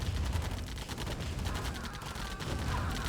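Light tank and defensive turret gunfire in a Command & Conquer Remastered match: rapid, continuous crackling bursts of shots, fairly quiet and dense throughout.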